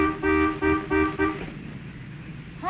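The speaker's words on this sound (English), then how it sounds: "I'll bet you anything he honks for service and Elizabeth has to calm him down." A car horn honks in four quick, loud beeps, then falls silent, leaving quiet background hum.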